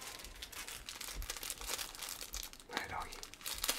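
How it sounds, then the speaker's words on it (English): A person blowing their nose into a tissue, heard as noisy bursts of breath and crinkling paper lasting several seconds, with a stronger blow near the end and no talk. "I've really got to blow my nose"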